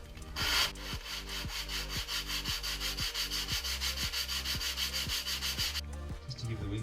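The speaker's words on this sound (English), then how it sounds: "I'll just some sandpaper and sand it" Sandpaper rubs back and forth on a homemade wooden glider wing in quick, even strokes. The raspy sound is close and steady and lasts about six seconds.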